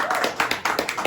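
An audience at a Hindi poetry stage show claps in a quick, dense burst of hand claps, fairly close and steady for about a second.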